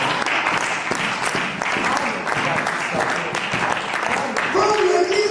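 A church congregation claps and cheers in acclaim of the Lord, steady dense applause with voices throughout, and a sustained sung or shouted tone rising near the end.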